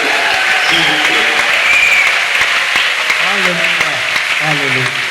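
A church congregation breaks into sustained applause and cheering, steady and dense throughout, with voices shouting and calling out over the clapping.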